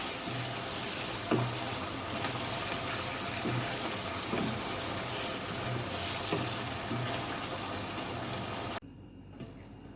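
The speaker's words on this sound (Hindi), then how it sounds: "हमने फ्लेम को थोड़ा सा हल्का कर देना है और इसे थोड़ा सा भूनना है" Chicken biryani masala fries in oil over a low flame, making a continuous soft sizzle and bubbling with faint occasional clinks until it cuts away abruptly near the end.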